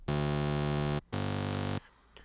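A buzzy, fizzy Serum wavetable synthesizer tone holds steady for about a second, stops briefly, then returns a little thinner before cutting off into faint noise.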